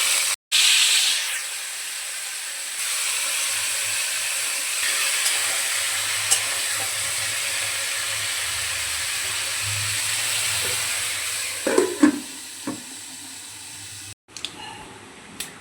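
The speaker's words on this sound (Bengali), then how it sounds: "তো চিংড়ি মাছগুলো ভেজে নিয়ে ওই তেলের মধ্যেই আমরা পটলগুলো ছেড়ে দেবো।" Pointed gourd pieces with salt and turmeric fry in oil left from frying prawns, giving a steady close hiss of sizzling that runs for most of the stretch, with a few clatters near the end.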